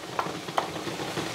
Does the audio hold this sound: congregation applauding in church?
no